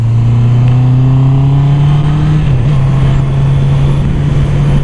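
A Honda CB650R motorcycle accelerating, its engine tone a loud, steady drone rising slightly in pitch over constant wind rush, heard close from the rider's position.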